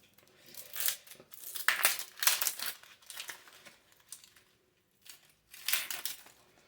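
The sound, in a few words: peeling the papery skin off an onion by hand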